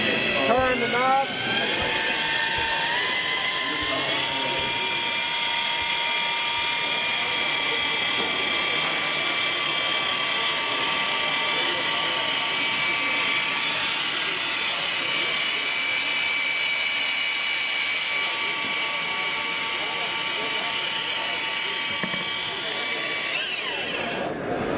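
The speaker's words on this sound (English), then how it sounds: "triple gear reduction drill, variable speed. Let's mix a little mud." A triple gear reduction variable speed drill churns through a batch of mud, its steady high whine running loud and unbroken for the whole stretch after a brief start, with a person talking over it.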